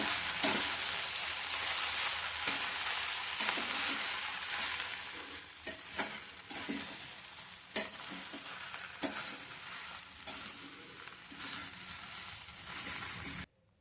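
A breakfast mixture with yogurt sizzles steadily in a pan on the stove while a spoon stirs it, scraping and tapping at irregular intervals over the constant frying hiss, close up, with no one speaking.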